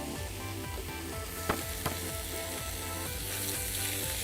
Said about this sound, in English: So we're just going to crisp that up slightly, seal that off on the edges, and then flick that steak back over.